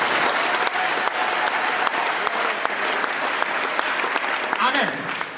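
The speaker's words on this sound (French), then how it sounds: "Est-ce qu'on peut acclamer le Seigneur?" A church congregation claps together in sustained, dense applause, steady and loud from start to finish, with voices faintly mixed into the crowd.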